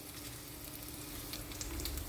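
Garlic and curry leaves sizzling in hot oil as a tempering for gongura pulusu, a steady, faint crackling fry with brief sharper pops near the end.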